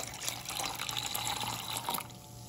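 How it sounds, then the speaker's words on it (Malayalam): Water poured from a cup into strained lemon juice for a variety lemon drink, a steady liquid splash and trickle lasting about two seconds before tapering off, close and fairly quiet. "ഇനി ഇതിലേക്ക് 1 കപ്പ് വെള്ളം കൂടി ചേർത്ത് കൊടുക്കാം."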